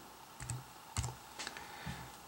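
Several soft, separate key taps on a computer keyboard as a number is entered into statistics software, quiet and close with short gaps between presses.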